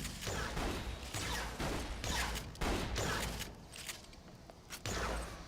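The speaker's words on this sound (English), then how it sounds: "This gun's good, but it keeps running out of bullets." Rapid gunfire from a gun in the Borderlands video game, a dense continuous barrage of shots with sharp bursts and brief gaps, loud and close with no talking.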